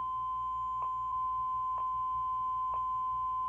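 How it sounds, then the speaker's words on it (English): A Bop It XT toy gives a steady electronic beep, a pure high tone held throughout, with three brief clicks evenly spaced beneath it, fairly quiet and alone. "Let's check out the beep."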